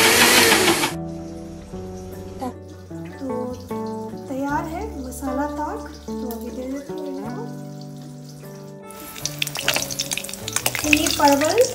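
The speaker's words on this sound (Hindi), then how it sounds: "परवल फ्राई हो गया है।" Pointed gourd (parwal) fries in a pan over a low flame, its loud sizzling and stirring bursting at the start and again near the end, with tonal background music filling the middle.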